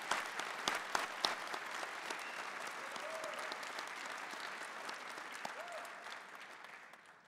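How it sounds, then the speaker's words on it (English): Loud, sustained applause from a large crowd at a spring convocation ceremony honouring graduates, dense clapping holding steady for several seconds before tapering off at the end. "graduates, I truly believe they also deserve a very loud round of applause"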